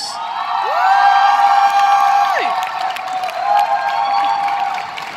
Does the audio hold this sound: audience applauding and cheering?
yes